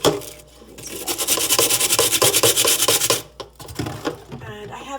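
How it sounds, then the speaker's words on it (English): A scrubber rubs briskly back and forth over a Bosch dishwasher's clogged trap filter, rapid rhythmic rasping strokes up close, pausing briefly before a few lighter scrapes. "Looks like I might do better with the scrubber."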